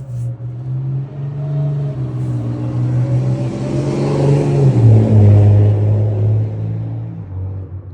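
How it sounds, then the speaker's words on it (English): Road traffic rumbling past a garden, a steady low vehicle drone that swells as a car passes close by around the middle, then eases off, with no talk. "Love that traffic"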